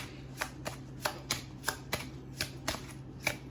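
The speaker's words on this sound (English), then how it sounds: "Let me shuffle again, though" A deck of cards shuffled for a pick-a-card reading, a close, quiet series of about a dozen crisp riffling snaps in a fairly steady rhythm, with no talking.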